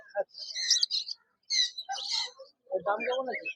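Caged pet birds, among them grey and lemon budgerigars with lutino and other colour mutations, chirp and tweet in bursts at a bird market, with brief gaps and someone talking over them.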